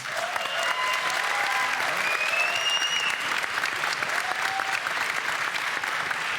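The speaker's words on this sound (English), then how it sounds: "So give them please a round of applause." Audience applause at The International 2019 Dota 2 event, a dense, steady wash of clapping from a large crowd that holds at full strength throughout, with faint whistles and cheers riding on top.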